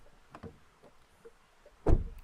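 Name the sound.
Leapmotor B10 front car door closing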